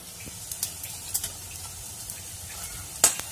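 Jalebi frying in hot oil makes a soft, even bubbling sizzle with scattered light ticks and a sharper clatter near the end, fairly close and fairly quiet.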